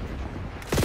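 Gunfire in Black Ops 6 on the holiday Nuketown map: a brief, loud burst of shots near the end of a short moment of low game noise.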